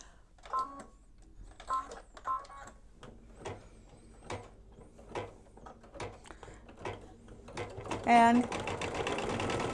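An embroidery machine stitches a holiday in-the-hoop mug rug design, a steady series of sharp mechanical clicks and whirs at close range, with a spoken voice briefly over it and a rising motor hum toward the end.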